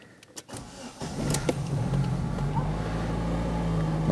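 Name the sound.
Fiat Siena car engine being started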